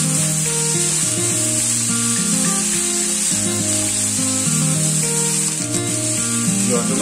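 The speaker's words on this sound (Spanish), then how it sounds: "Ahora añadimos el tomate cortado. Levantamos un poquito el fuego." Chopped tomato sizzles in a hot pan over raised heat while cooking conchiglie a la pugliese, a steady, close, continuous hiss and crackle running under background music.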